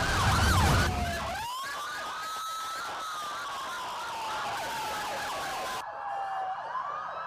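Wailing sirens from a caravan of ambulances and fire pump trucks of Guatemala's volunteer fire brigade, marking its 70th anniversary. Several overlapping siren sweeps rise and fall continuously over a steady traffic rumble at middling distance.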